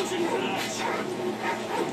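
Dogs bark and whimper in Call of Duty Modern Warfare 2 Spec Ops co-op gameplay, heard under continuous game noise and a voice talking over the short stretch.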